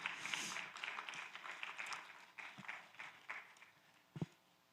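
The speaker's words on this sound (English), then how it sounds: "Give these people a round of applause." Audience applause after a talk, a soft, distant patter of many hands clapping that thins out toward the end, with a few louder isolated claps near the close.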